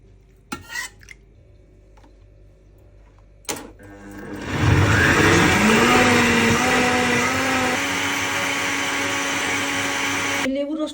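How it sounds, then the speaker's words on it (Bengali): Several sharp clicks and clatters as a kitchen blender is handled, then its motor roars up and runs steadily at high speed, blending fruit for multivitamin juice, loud and close until it cuts off near the end. "আমি ফ্রুটসগুলো এখন ব্লেন্ডার করব।"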